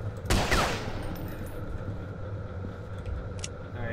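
A short burst of video game gunfire rattles out near the start, a rapid volley that fades into a quieter, steady rumble for the remaining seconds.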